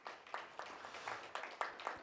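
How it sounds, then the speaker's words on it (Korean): An audience at a policy forum claps, a modest, rhythmic run of hand claps coming in regular pulses, moderately near and not very loud, with no talking over it. "수고하셨다고 다시 한번 박수 한번 크게 쳐주십시오"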